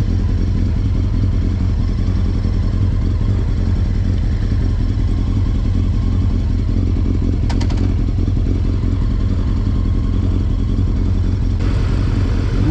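An older motorcycle engine runs steadily at close range at a motorcycle rally, a rough, clattering drone with no voices over it.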